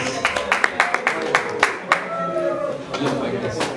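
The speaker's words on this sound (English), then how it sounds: "Give him a warm round of applause, please." An audience at a school talk claps to welcome Mr. Galutan, a short run of scattered handclaps that fades into talking voices.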